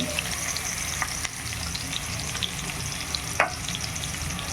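Onions and garlic sautéing in a pan for veg noodles, a continuous crackling sizzle with occasional clicks and scrapes of stirring, steady and close, no voices.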